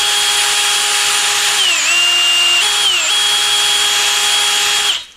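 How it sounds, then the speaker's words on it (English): A drill-driven brake hone spins inside the crusty swingarm bushing bore of a 1983 Yamaha IT 175, a loud steady whine with shifting pitch for about five seconds before winding down at the end. "I'm just taking my little brake hone."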